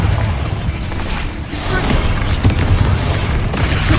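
A Bombarda spell explosion in the video game Hogwarts Legacy: a dense, loud, sustained blast of booming rumble and crackling debris, with no pause for about four seconds.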